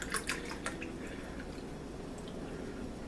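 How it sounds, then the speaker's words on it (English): Chicken broth from a can trickles and drips into a glass, a faint splashy pour at the start that thins to soft drips over a low steady background. "I'm going to just pour some of this in a glass."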